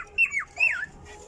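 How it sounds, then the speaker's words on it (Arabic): A young male cockatiel gives two short, bright chirps in quick succession, each a clear rising-and-falling whistle, close and alone against a quiet background. "زي ما انتم سامعين ده تغريد ذكر من الصغيرين لسه"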